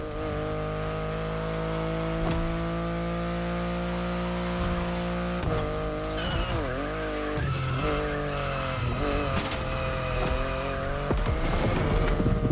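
A BMW i8 racing in The Crew Motorfest: a steady, loud engine drone with shifting pitch, then repeated tire squeals and skids as the car slides through corners, continuous engine noise throughout with no voices.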